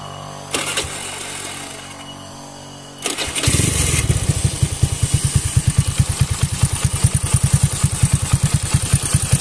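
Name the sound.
bore-up 130cc carbureted Honda Beat motorcycle engine running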